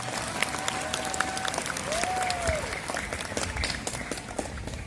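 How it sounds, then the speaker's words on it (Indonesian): Sustained audience applause at a school awards ceremony for competition winners at MAN 1 Banda Aceh: dense, steady clapping fills the hall, with a couple of brief whistles rising above it. "Mana tepuk tangannya buat teman-teman?"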